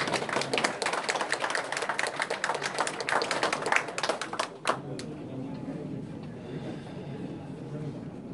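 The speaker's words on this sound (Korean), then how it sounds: "큰 박수로 맞이해 주십시오." An audience at a ceremony marking 30 years of excavation at the Neukdo site in Sacheon applauds in dense, sustained clapping, which stops about halfway through and leaves quiet room tone.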